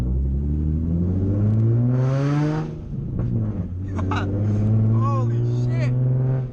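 Nissan 350Z with a loud aftermarket exhaust while driving, a deep steady rumble that rises and falls under nearly constant talking from inside the car.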